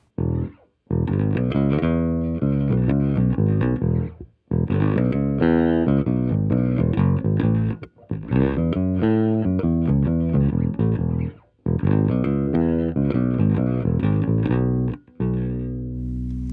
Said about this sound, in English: now I'm going to take it back to the treble pickup by the bridge.